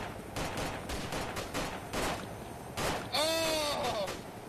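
Rapid gunfire bursts from a video game firefight, several close volleys in quick succession, ending in a ringing tonal sweep under loud background noise.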